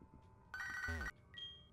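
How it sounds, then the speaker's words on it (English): Phone ringtone from the video game Pokemon Infinity, a bright electronic melodic tone lasting about half a second, loud over quiet game background, followed by a fainter high chime. "phone's ringing again."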